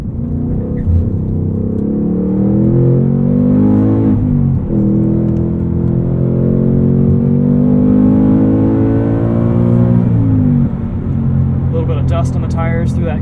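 A 2022 Ford Mustang Mach 1 with a manual gearbox and handling package accelerates up a highway entrance ramp in Sport Plus mode, its loud engine rumble climbing in pitch through two long pulls with a brief dip for a gear change in between.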